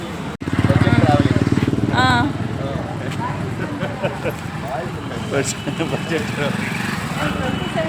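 Motorcycle engine revving loudly and close at first, then settling into a steady running drone at a crowded Kumbh Mela pilgrimage site, with people talking over it.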